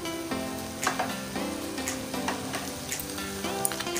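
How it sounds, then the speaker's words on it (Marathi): Clams frying in a pan with turmeric powder and masala for a Goan dry clam dish, giving a steady sizzle with a few stirring scrapes and clinks, close and fairly loud, with no one speaking. "आणि थोडं परतून घेते."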